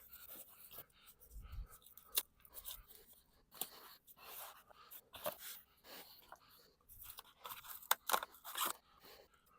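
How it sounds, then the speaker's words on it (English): Zip ties being snipped off a DYU C3 14-inch folding e-bike packed in foam, a series of sharp close clicks and scrapes at irregular intervals with rustling handling noise between them. "Go around here and cut all the zip ties."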